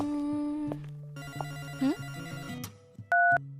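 A cellphone rings in an animated cartoon, a short electronic ringtone of repeating tonal beeps over background music, with a brief louder burst near the end.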